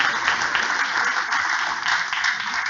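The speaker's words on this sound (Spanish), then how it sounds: "Dele ese aplauso al Señor." Church congregation applauding during a sermon: a dense, steady wash of many hands clapping together, fairly loud and continuous with no talk over it.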